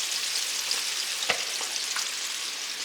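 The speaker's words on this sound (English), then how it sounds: "I've got some shishito peppers that I'm charring." Shishito peppers charring in a hot pan, a loud, even sizzle and crackle of frying with a few brief pops and a soft scrape of stirring partway through.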